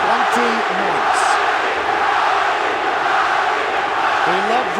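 Loud arena crowd at a UFC 180 heavyweight bout between Werdum and Velasquez, a sustained roar with low drawn-out jeering voices rising and falling through it.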